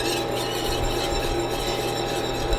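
A whisk stirring thickener into simmering turkey gravy, a steady scraping, rattling clatter against the pan over a continuous simmer noise, close and alone without voices.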